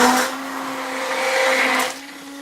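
A blender whizzes purple liquid soap colorant with a steady, loud motor whir that eases slightly midway and then drops off.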